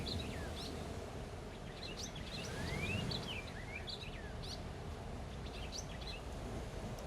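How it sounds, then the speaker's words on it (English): Birds chirp and whistle outdoors in scattered short calls and rising sweeps over a steady background hiss, with faint rustling and insect-like buzz, moderately distant and fairly quiet. "And the sound of bird,"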